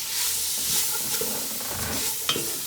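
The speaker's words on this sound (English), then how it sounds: "Give the spice blend a good stir." Spice blend stirred into food sizzling in a pot during Mardi Gras cooking, a steady close frying hiss with scraping stir strokes running throughout, no talking.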